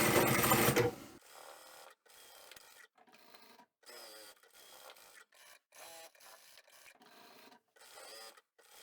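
A sewing machine stitches two fabric swatches together for a patchwork bag in short, separate bursts with pauses in between, fairly close and quiet. A louder burst of noise opens the sequence.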